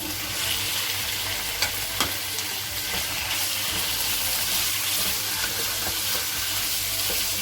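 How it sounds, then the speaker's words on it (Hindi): Chicken pieces sizzle and crackle steadily in a hot pan with garlic, a continuous close frying hiss with occasional stirring clinks. "कलर आने तक थोड़ा सा फ्राई करेंगे।"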